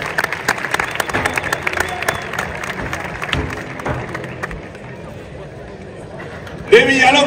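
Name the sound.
crowd applause at bull-cutting contest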